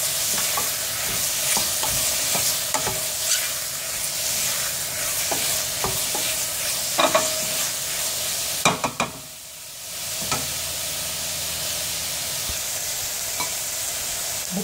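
Onions frying in a pan for mushroom and vegetable sauté, a steady close sizzle broken by scraping stirs and sharp utensil clicks, with a brief quieter dip near the middle before the frying resumes.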